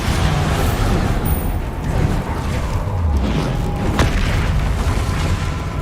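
In the video game Hogwarts Legacy, the Bombarda spell detonates with a heavy, continuous booming roar and a few crashing impacts amid thick battle noise, loud and sustained with no speech.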